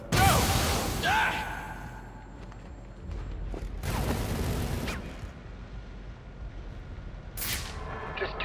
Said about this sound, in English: Fire extinguisher caused the explosion.